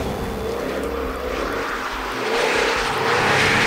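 A supercharged 5-litre V8 in a 2013 Jaguar F-Type V8 S drones steadily as the car drives, a continuous engine roar with road noise that swells louder toward the end.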